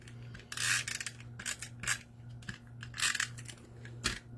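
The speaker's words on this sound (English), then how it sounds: "so I'm just going to trim it up" Non-stick scissors snip through stiff cardstock in several crisp, irregular cuts close by, with a low steady hum underneath.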